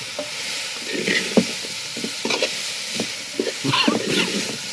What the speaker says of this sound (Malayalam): ഒന്ന് ഇളക്കി വെപ്പിക്കാം